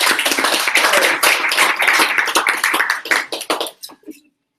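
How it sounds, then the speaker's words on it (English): A room of educators at an EdCamp gathering claps loudly and continuously, dense overlapping hands that thin into a few scattered claps and stop abruptly near the end. "you give yourselves a round of applause"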